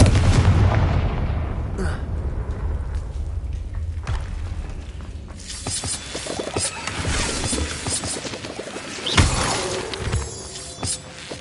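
A Confringo fire spell blasts in Hogwarts Legacy, a loud close burst of crackling, shattering booms that rumble on and fade, with a second sharp impact flaring near the end.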